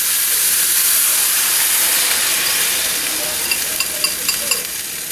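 Eggs hit a hot pan with wilting greens and sizzle in a loud, steady frying hiss, with a few light clicks of stirring toward the end.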